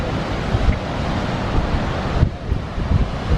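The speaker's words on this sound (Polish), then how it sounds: "Cudowny jest ten wodospad." Gullfoss waterfall in Iceland, a steady loud roar of falling water with wind buffeting the microphone, continuous throughout with no talk.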